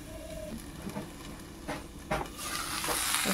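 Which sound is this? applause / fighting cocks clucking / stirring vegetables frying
stirring vegetables frying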